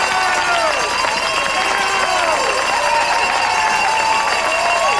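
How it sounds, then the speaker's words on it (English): A home crowd at a 1997 speedskating sprint World Cup in Milwaukee cheers and applauds a skater in a loud, continuous roar, with an announcer's voice running over it. "Chris Whitty hears it from the hometown crowd."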